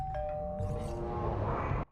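A doorbell chimes with a bright ding-dong, its tone ringing and fading briefly before cutting off abruptly, heard clearly over a low background hum.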